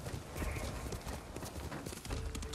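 Horse hooves clip-clop steadily in the samurai video game Ghost of Tsushima, a close, continuous trotting rhythm over a busy game soundscape, with a brief voice faintly mixed in.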